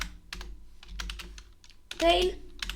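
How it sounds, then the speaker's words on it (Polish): Fingers type on a computer keyboard into a web browser, producing close, irregular bursts of clicking keystrokes with short pauses and one louder cluster near the end. "pierwsze co robimy w naszej przeglądarce to wpisujemy Undertale"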